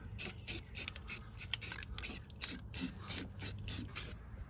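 Rust converter is sprayed onto a truck's rusty surface in short, repeated hissing bursts, close and fairly quiet, with small rubbing noises between them.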